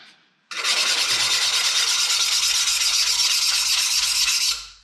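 A diamond hand pad rasps against the cut edge of a ceramic tile, a loud, steady, harsh scraping that starts abruptly after a brief quiet moment and runs unbroken for about four seconds.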